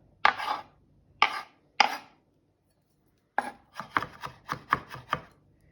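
A kitchen knife mincing garlic on a cutting board for mushroom barley soup: three separate crisp chops, a pause, then a quick run of about eight rhythmic chops, close and clear with no talking.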